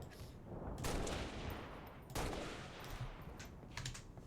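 Bursts of automatic gunfire in the video game Halo Reach crackle in several rapid volleys, moderately loud with short gaps between them and no speech over them.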